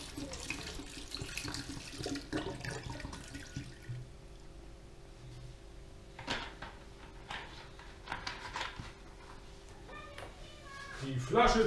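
Tap water runs and splashes as it is poured into a simmering potato stew in a home kitchen, a steady wash of water with a few clinks, and a voice talks over it.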